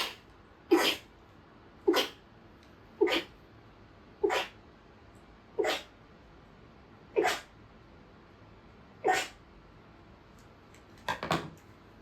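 Eight sharp, loud sneezes from a man, one roughly every second or so, each standing out alone over a quiet indoor background, with a cluster of a couple of quick sneezes near the end.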